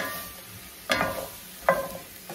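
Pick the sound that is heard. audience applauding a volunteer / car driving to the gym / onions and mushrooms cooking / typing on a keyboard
onions and mushrooms cooking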